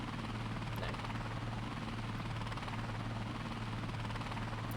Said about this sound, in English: I am glad that we got the helicopter though